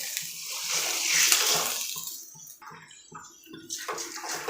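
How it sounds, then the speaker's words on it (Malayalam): Four cups of water poured into the pot used for the semolina while making soft upma, a steady rushing splash that swells, then breaks into a few shorter pours, with no talking. "4 കപ്പ് വെള്ളം ഒഴിച്ച് കൊടുക്കാം"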